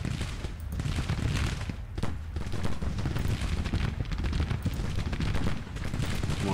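Musket volleys in the Civil War strategy game Grand Tactician, a steady crackling roll of massed gunfire at a distance, continuous and fairly even in loudness with no talk.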